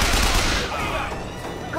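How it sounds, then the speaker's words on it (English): Gunshots in BioShock Infinite: a loud, close burst of rapid fire at the start, decaying into a rough rumbling tail that fades over under two seconds. "Gunshot!"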